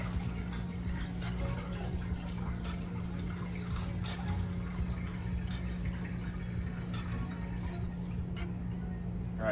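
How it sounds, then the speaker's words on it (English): Water poured back into a home reef aquarium splashes and trickles steadily and faintly over a constant low pump hum, continuous throughout. "We're gonna add a little bit of this water back in."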